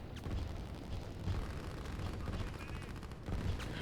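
Tanks and artillery firing in the strategy game Line War, a dense rumble of rapid gunfire and booming blasts that keeps going with irregular louder bursts, fairly close and continuous.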